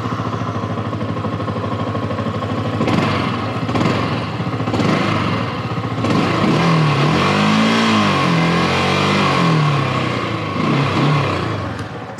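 Yamaha R15 M sport motorcycle with a single-cylinder 150cc engine, heard running loud and close with a steady idle, then revved repeatedly in rising and falling sweeps.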